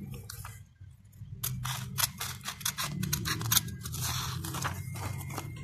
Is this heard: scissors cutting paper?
yes